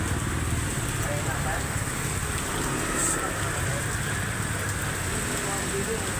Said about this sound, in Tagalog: Umulan na talaga.